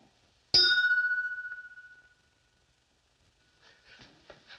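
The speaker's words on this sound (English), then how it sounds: "I thought it was the gong." A boxing ring bell struck once, a loud sharp ding that rings out and decays over about a second and a half, followed by quiet and faint voices.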